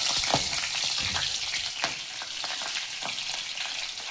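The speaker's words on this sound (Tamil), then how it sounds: "போட்டுட்டு நல்லா வறுத்துக்கணும்." Ingredients for a ponnanganni keerai (sessile joyweed) chutney roast in a pan, a close, steady sizzle broken by scattered crackles and pops.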